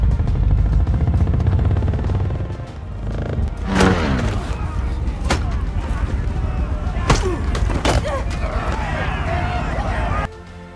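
Gunfire in a desert wasteland action scene, several sharp loud bangs spaced apart over a roaring engine and heavy, dense background rumble, with no voices standing out.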